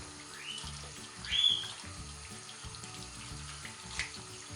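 Tap water runs steadily into a sink while a face is rinsed during an evening skincare routine, a constant close splashing with a brief louder surge partway through and no talking.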